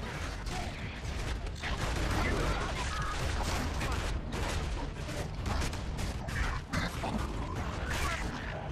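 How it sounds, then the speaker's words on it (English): Dense, sustained gunfire and mechanical clatter from Gears of War: Judgment fill the clip with rapid, loud bursts and no pauses. "Shooting him full of holes, he's dead."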